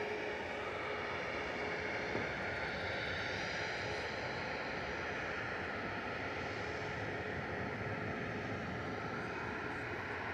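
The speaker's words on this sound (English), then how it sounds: "That's flight 69679, 737-800 9HQDW," Malta Air Boeing 737-800 jet aircraft, registration 9H-QDW, at Manchester Airport, giving a steady, continuous engine roar that holds evenly for the whole stretch with no voices over it.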